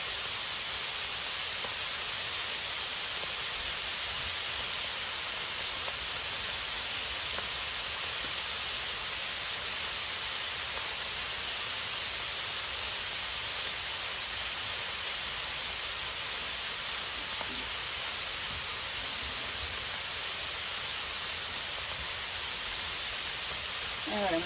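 Steak sizzling on a Blackstone griddle, a loud, unbroken hissing sizzle that holds steady and close throughout.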